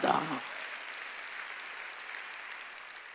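A church congregation claps together during a Sunday worship service. The steady, dense applause fills the room and holds for several seconds right after a brief spoken phrase.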